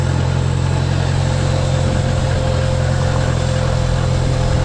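A Farmall 140 tractor engine running starved for fuel gives off a steady, loud, low mechanical drone with a constant pitch and no breaks.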